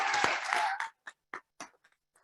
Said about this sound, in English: a big round of applause for Sean Ang over here